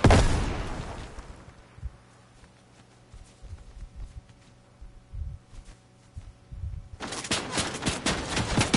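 Bursts of gunfire from the video game Fortnite erupt loudly at the start, thin to scattered distant shots through the middle, then return as a dense, loud volley at the end.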